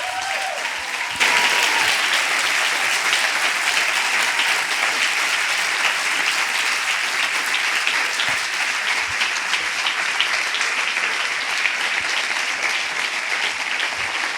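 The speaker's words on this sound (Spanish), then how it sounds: "Que sea un aplauso de adoración al Señor por lo que Él te está hablando esta mañana." A church congregation applauds in worship during a Sunday morning service, a dense, steady wash of clapping that starts after a brief quiet moment and carries on loud and sustained throughout.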